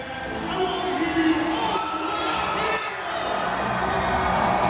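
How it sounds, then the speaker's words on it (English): Arena football crowd inside the Findlay Toyota Center during an Arizona Rattlers game, a broad steady roar of cheering and whooping that swells slightly, with a commentator's voice running over it throughout. "This crowd coming alive here tonight inside the Findlay Toyota Center."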